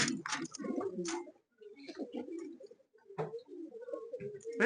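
A young female racing pigeon in a loft gives several soft throaty coos in broken phrases, close and fairly quiet, with short silences between them and no talk.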